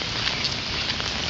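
Heavy rain falls steadily during a hurricane-season flood near a house, a dense close hiss of drops hitting surfaces with no voices.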